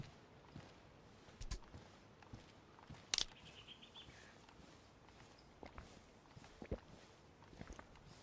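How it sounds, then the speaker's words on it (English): A character walks in the DayZ survival game in early winter Chernarus, soft crunching footsteps in an irregular pace, faint and close, with a couple of sharper clicks and a brief high chirp. "I'm walking here."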